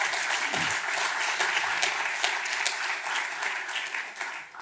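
Audience applause at a round-table conference on decarbonising heat, with a brisk clatter of many hands and a few sharper individual claps standing out, holding steady before tapering slightly at the end.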